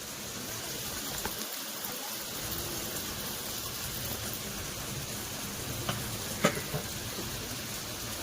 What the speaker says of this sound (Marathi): आता आपण चांगलं मस्त भाजून घेऊया